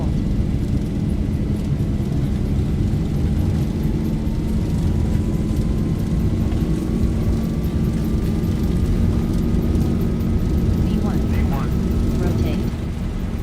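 Airliner jet engines spool to takeoff thrust in a flight simulator game, a steady loud roar with a slowly rising whine that holds throughout the takeoff roll.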